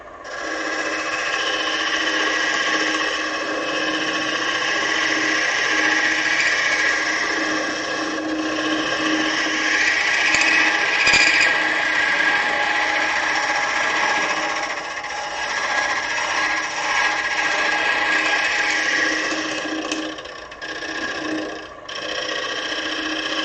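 A skew chisel cuts wood spinning on a lathe in a continuous, loud, whirring rasp that holds steady for a long stretch, with no talk.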